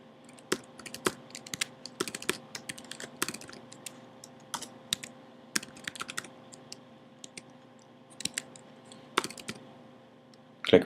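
Login credentials are tapped out on a computer keyboard in scattered bursts of quiet, close key clicks separated by short pauses, with a louder click at the very end.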